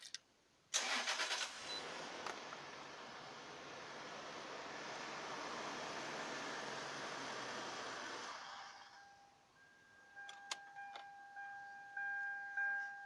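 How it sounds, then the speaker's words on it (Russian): A 1998 Toyota Hilux Surf engine cranks briefly, catches and fires, then settles into a smooth idle for several seconds before fading out, followed by faint electronic beeps and clicks; no voices are present. "Заведем, даже можно завести с полоборота."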